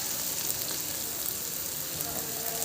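Chopped ginger frying in a pan for an egg roll, giving a loud, steady, close sizzle with a faint stirring texture and no speech.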